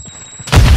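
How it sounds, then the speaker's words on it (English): A Semtex grenade detonates in a shooter video game, a sudden loud burst arriving after a quiet moment with a faint tone, then a dense roaring blast filling the rest of the brief moment. "Throwing Semtex!"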